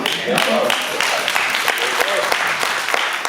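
An audience claps steadily throughout at a Kwanzaa celebration, a dense crackle of many hands with a voice speaking over it.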